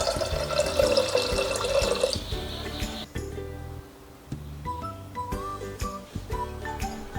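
Water is poured into a pressure cooker holding soaked dal, a close, splashing pour that stops partway, followed by scattered drips, clinks and light handling noises.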